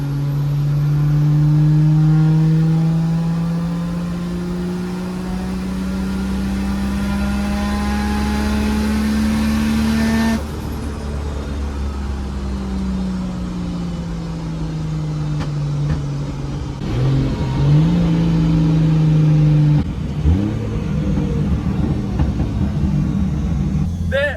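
A car tuned with a Link G4 ECU accelerates in a ramp run, its engine drone climbing steadily in pitch for about ten seconds before lifting off. It then settles lower and revs up briefly again, loud and close throughout.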